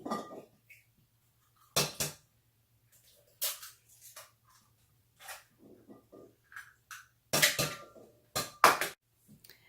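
A dozen eggs are cracked into a casserole dish. Sharp irregular clinks and taps of shell on the dish's rim come in clusters, close and crisp, separated by near-silent pauses, with no talk.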